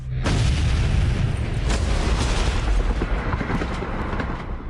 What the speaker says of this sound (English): An hour ago, a bomb blew up the Kremlin.